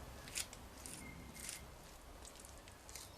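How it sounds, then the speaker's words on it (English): Scissors snipping material off a turkey decoy hide, quiet crisp cuts repeating at an uneven pace, close by against a soft background hiss and no talk. "I'm going to probably cut some of this off myself"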